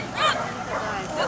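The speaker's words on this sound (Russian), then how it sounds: "Нет, собачка." A small dog gives a quick run of high yips and whimpering barks, close by, mixed with people talking in the background.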